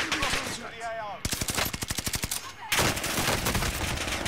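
Rapid automatic gunfire from a video game, with dense rhythmic bursts that repeat, loud and close, around a voice talking over the game.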